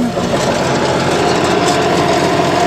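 A tractor running with its PTO engaged to drive a grass seed spreader in a cow pasture, a steady close engine drone with a whirring mechanical hum, continuous and loud without pauses.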